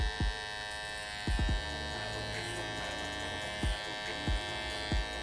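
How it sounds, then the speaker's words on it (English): An Andis electric hair trimmer buzzes steadily and close up while cutting a sharp hairline around the ear during a women's faux hawk haircut, with a few soft low thumps as it moves. "Turning my trimmer over, I'm going to use the back of my trimmer"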